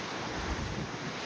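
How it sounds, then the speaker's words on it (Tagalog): A constant loud roar of large ocean waves mixed with wind, heard from a cruise ship at sea in the Caribbean, broad and unbroken, with no voices. "Mapapansin nyo malaki siyang alon, maingay pero smooth naman siya"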